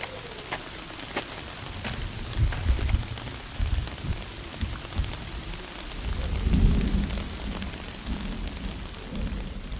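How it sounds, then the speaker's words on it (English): Steady evening rain falls in a continuous hiss, with low rolling thunder swelling in and out at moderate distance and no voices. "Rain in the evening."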